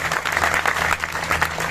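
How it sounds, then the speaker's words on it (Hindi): An audience at an organization's rally applauds in a brief, dense patter of many hands clapping at once, steady and moderately loud. "साथियों जरूर ताली बजाओ"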